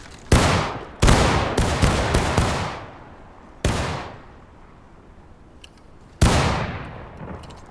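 Civil War reenactment infantry of the 15th Wisconsin fire muskets in an independent volley, a string of loud, booming individual shots, some clustered and some spaced out, each trailing a rolling echo outdoors.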